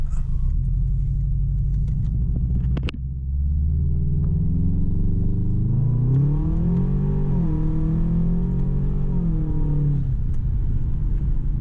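An LS-swapped BMW E30 accelerating hard, its V8 rumble climbing through a long rev with a brief dip as it shifts, loud and close with no talking.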